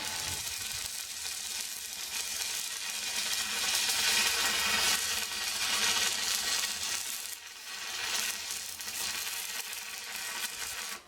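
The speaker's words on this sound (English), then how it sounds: "We'll get this welded in, and we'll try and get some good welds in around the inside as well." Arc welding on a home made bell mouth under reamer tool, a steady loud crackling sizzle running continuously with small surges and one brief dip, no talk.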